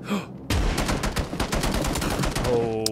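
Gunfire in a PUBG esports match, a fast run of close, loud shots in a tight burst lasting a couple of seconds.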